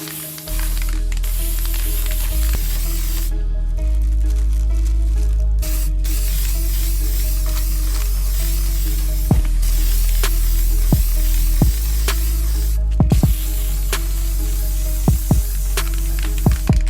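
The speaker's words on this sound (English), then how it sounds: "it was now time to spray paint the sole plate orange" Aerosol spray paint hisses steadily onto the orange sole plate of a custom adidas football boot, a long continuous loud spray with brief pauses and a few short clicks, no voices.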